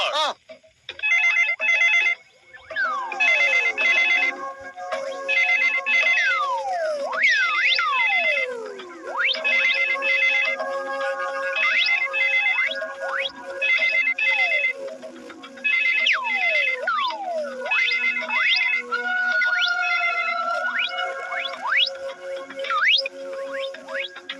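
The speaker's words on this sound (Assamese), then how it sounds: "ধৰিছ যদি ফোনটো কিয় বাজি আছে?" A mobile phone rings loudly and close by, its electronic ringtone of chirping, repeating tones looping without pause for around twenty seconds, with no talking over it.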